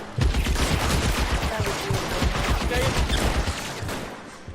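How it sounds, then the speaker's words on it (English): Enemy gunfire in the L.A. Noire video game, a shooter with a machine gun firing dense, continuous rapid shots that fill the whole stretch at close, loud range. "Stop shooting at me!"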